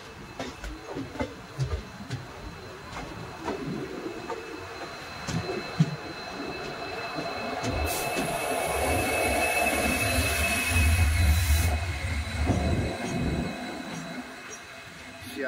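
The Sealdah–Silchar Kanchanjunga Express running through hilly country, a continuous rumble of rail cars with clattering wheels and a brief high squeal, under scattered voices.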